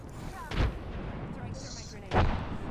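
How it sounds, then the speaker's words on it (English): Two booming grenade blasts in the Apex Legends battle royale shooter, one near the start and a second about a second and a half later, each a sharp loud burst over a steady bed of game noise. "I'm trying to lob a grenade over."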